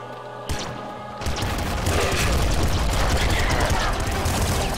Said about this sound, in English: Alright, auto flame shotgun,